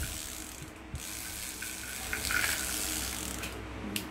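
Handle of a Korean-made EF40 spinning fishing reel with a carbon body being turned, giving a steady fine ratcheting whir close by, with a few faint clicks.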